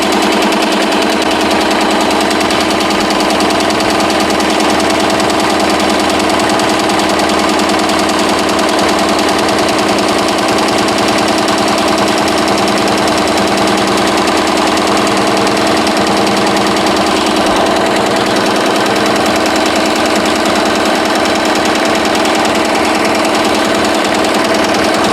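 A Tajima embroidery machine stitching a patch, running nonstop with a loud, dense mechanical chatter and steady hum throughout, close by and with no pauses.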